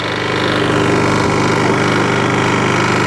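A Toro lawn mower with a Briggs and Stratton engine runs steadily at a loud, close idle, its low pulsing drone unbroken throughout with no talk.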